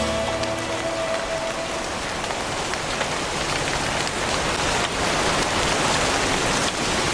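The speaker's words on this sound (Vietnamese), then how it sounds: "Trời mưa rồi." Steady, dense rain pours down, striking surfaces with a loud, continuous hiss that stays even throughout, with no voices over it.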